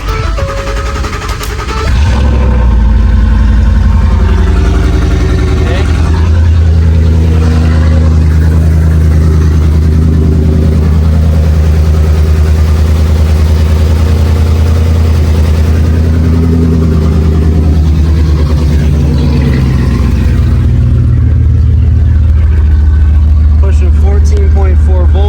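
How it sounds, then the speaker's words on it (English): A truck engine cranks and settles into a steady, loud, close idle after a high output alternator install, holding a constant rumble for over twenty seconds. "we should be good to start the truck"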